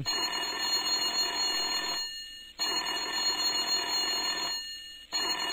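An old telephone rings insistently in the horror game Whispers: Room 6, loud and shrill, in two long bursts separated by a brief pause, with no voices over it.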